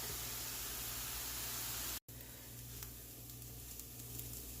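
Vegetables for a turkey shepherd's pie sizzle and soften in a pan as a quiet, steady hiss with a brief break partway through. No one speaks.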